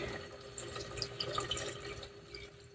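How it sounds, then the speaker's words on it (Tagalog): Water poured into a pan of adobo made with chicken liver and gizzards, vinegar and chili, giving a soft, close trickle with small splashes and drips, steady for a few seconds with no voices. "At lagyan natin kaunting tubig."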